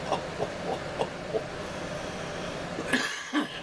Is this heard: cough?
yes